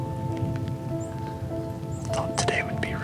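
Steady rain falls through a quiet woodland during an archery whitetail hunt, a dense even patter running throughout, with low whispered voices near the end.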